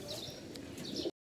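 Pigeons cooing softly and continuously in a pigeon loft, with a few brighter chirps over the murmur, close by, for about a second before cutting off.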